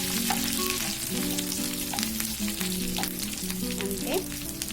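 Curry leaves and fried onions sizzle steadily in hot oil in a pan of leafy dal with brinjal, a close, continuous crackle with occasional soft stirring clinks.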